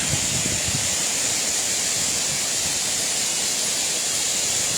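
A steady, full roar of water pours over the wide tufa cascade at Baume-les-Messieurs, below the Dard springs. The rushing hiss stays constant and near throughout, with no talking.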